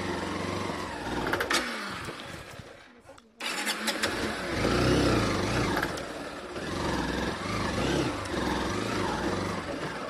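A Honda CB Unicorn 160 BS6 motorcycle revs while riding off-road, a rough, steady engine drone that briefly drops out and then returns, with someone talking over it.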